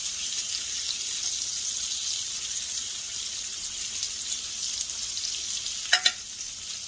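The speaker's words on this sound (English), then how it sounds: "And we are going to blacken these shrimp. The skillet is still really hot from our salmon." Shrimp sizzle as they blacken in a very hot skillet, a steady, dense hiss close by, with a couple of quick metallic clinks near the end.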